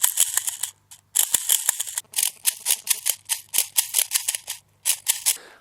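A 40mm airsoft grenade launcher is reloaded: a rapid series of sharp, close mechanical clicks and snaps, loud and crisp, in irregular bursts with brief pauses between them.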